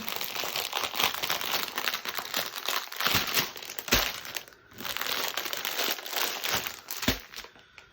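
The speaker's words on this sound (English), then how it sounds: "Don't mind the crinkling." Crinkly plastic packaging from a diamond painting kit rustles and crunches almost without pause, close and fairly loud, with a few sharper crackles as the soft rolled canvas is handled and pushed back into its box.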